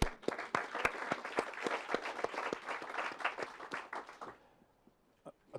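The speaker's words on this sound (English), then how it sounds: "So let's another round of applause for yourself." Applause from an audience at a groundbreaking ceremony, a dense patter of many hands clapping at steady loudness before it thins out and fades to a few scattered claps.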